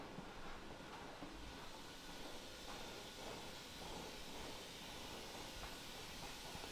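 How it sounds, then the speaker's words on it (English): Steady broadband hiss of hot steam escaping from a slightly passing steam valve in tunnels beneath a hospital, continuous and fairly loud with a low rumbling undertone and no speech. "the steam from the steam system is obviously very hot. We've got a slight pass in there."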